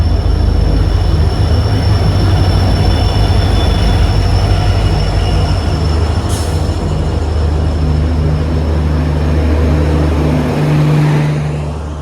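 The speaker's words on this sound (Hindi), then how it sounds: "अपनी दुरंतो तो आ गई है" The Ernakulam–Mumbai Duronto Express rolls into a station with a loud, continuous rumble of wheels and carriages, a constant high whine and occasional wheel squeal, slowly easing off near the end.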